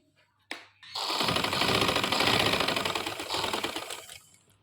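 Sewing machine stitching along the waistband of a silk farshi shalwar leg, one continuous rattling whir of about three seconds that starts abruptly after a small click, close and alone.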